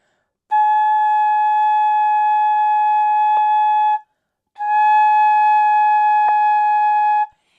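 A flute is played with an oval lip opening, giving two long, steady, pure tones, each started with a clean tongued attack and separated by a short gap. It is heard close and alone.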